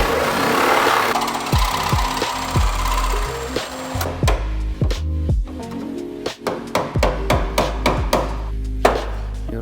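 Cutting through a pillar on a totaled Final Edition Evo car body: a continuous harsh power-tool whine through the first seconds, then a loud series of sharp metallic impacts and cutting bursts, close and steady.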